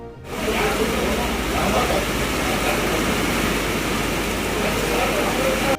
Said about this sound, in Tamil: கொடைக்கானலில் இடி மின்னலுடன் கூடிய கனமழை பெய்ததால் ரம்மியமான சூழல் நிலவுகிறது